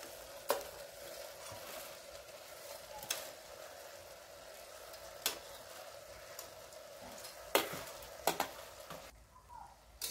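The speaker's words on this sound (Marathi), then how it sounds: "तोही चांगला परतवून घेऊ।" Washed masoor lentils and rice being sautéed in a pan, with a soft steady sizzle and occasional sharp scrapes of a spoon stirring against the pan, fairly quiet with no talking.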